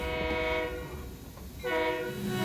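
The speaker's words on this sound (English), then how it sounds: "1924 built Baldwin steam locomotive" A 1924 Baldwin 2-8-2 Mikado steam locomotive on the Skunk Train railroad sounds its whistle in two loud, close, chord-like blasts separated by a short gap, with a low rumble underneath.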